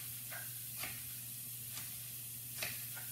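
Garlic noodle ingredients sizzle in a hot frying pan with a soft, continuous hiss and a few faint crackles and pops scattered through it. No one speaks.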